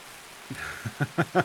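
Light rain falls in the video game Escape from Tarkov as a soft, steady patter, while a voice speaks in short bursts over it.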